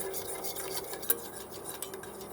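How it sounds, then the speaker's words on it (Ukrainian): A spoon stirs a milk mixture in a pot, a steady run of close scraping and rubbing strokes against the metal with one sharper clink midway, and no voices. "Отак, постійно помішуючи, доводимо до кипіння."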